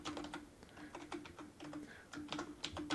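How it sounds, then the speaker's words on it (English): Fingers type a password on a computer keyboard in a quiet room, a soft, fairly rapid run of light key clicks in short bursts that continue throughout. "And I have to type it in twice."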